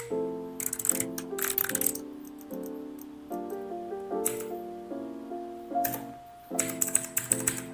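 Keys clack on a computer keyboard during data entry in a web programming exercise, quick tapping bursts close up, heard faintly over background music with no talk.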